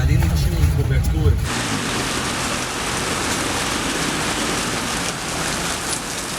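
Steady outdoor rain hisses across the whole stretch, close and dense. A deep low rumble opens it for about a second before dropping away, leaving only the even wash of falling rain.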